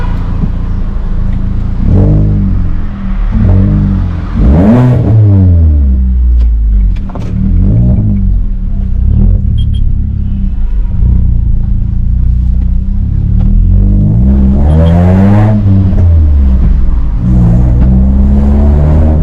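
A modified Hyundai i20 facelift with a full system exhaust and stage 2 ECU remap revs loudly and close up, its deep engine rumble rising and falling through several throttle blips.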